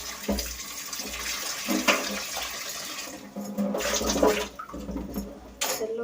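Running water splashes from a tap while jackfruit is washed underneath. The flow is close and uneven, with splashes and gurgles and shifting bursts of water.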